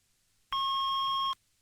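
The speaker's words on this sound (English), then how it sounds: "Please leave a message after the beep." A single steady electronic beep from a home telephone answering machine, a pure sustained tone with a faint higher overtone, lasting just under a second, clear and alone with no talking.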